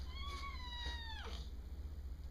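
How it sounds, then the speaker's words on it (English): A black cat at an animal shelter meows twice in quick succession, clear and fairly close, over a steady low hum with no talking. "Well, here's another black cat."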